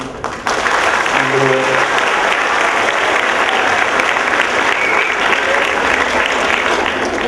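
Sustained applause from a seated audience, loud and dense clapping that starts abruptly and continues evenly for several seconds, with a brief voice at the very start.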